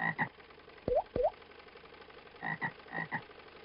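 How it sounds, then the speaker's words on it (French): Frogs give several short, close croaks in uneven pairs and clusters, separated by brief pauses, with no talking. "des grenouilles"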